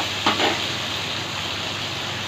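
Vegetables fry in a pan with a steady, even sizzle and one brief stir or scrape near the start, with no talking.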